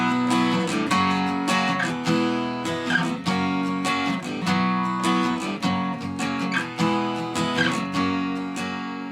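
An acoustic guitar strums the quicker chord progression of a verse at regular tempo, with steady, close, rhythmic strokes and clear chord changes played alone.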